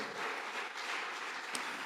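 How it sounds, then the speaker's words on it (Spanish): A church congregation applauds during a Spanish-language sermon, a steady wash of clapping from many hands, fairly soft and diffuse. "Denle un fuerte aplauso a Jesucristo."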